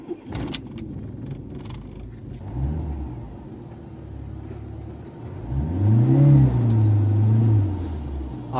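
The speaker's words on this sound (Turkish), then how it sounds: "Aracımızı çalıştıralım." A Fiat Tempra Tipo 1.4 SX ie petrol engine cranks and catches, then idles with a low rumble before revving up in a rising, louder swell near the end; a faint jingle of keys sounds at the start.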